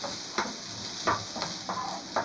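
Onion frying in olive oil in a pan, with a steady soft sizzle broken by several short stirring scrapes at close range and no talk.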